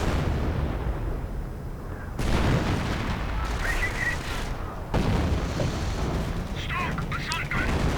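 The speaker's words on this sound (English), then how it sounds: "And artillery going into Grenadiers plus sniper fire." Artillery and sniper fire in Company of Heroes, a real-time strategy battle: heavy booming barrages roll through with dense rumbling, sharp cracks and whistling shells, loud and continuous, cutting abruptly between bursts.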